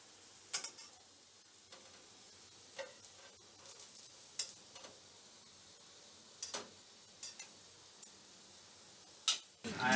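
Stuffed bitter gourd (bharwa karela) frying in a pan gives a faint, steady sizzle, broken by scattered sharp taps and scrapes as the pieces are turned.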